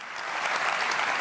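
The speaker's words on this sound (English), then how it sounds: "they're clapping for him" A brief burst of dense audience clapping, steady and fairly loud for about a second.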